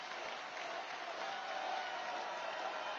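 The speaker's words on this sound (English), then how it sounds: "Listen to the cheers. Huge crowd." Large crowd at a Trump political rally applauding and cheering, a dense, even wash of clapping and shouts that sounds somewhat distant and muffled, holding steady for three seconds.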